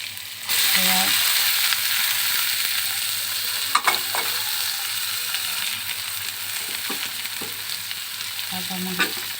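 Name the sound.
garlic, onion and green chili frying in a pan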